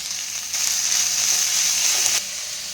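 Sliced onions sizzle in hot oil with whole spices in a pan for mutton chops, a steady, close hiss that swells briefly as they go in, then fades back.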